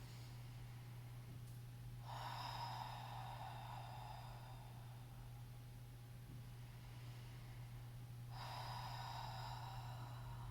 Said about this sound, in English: And exhales through your mouth, drawing them out as long as you can.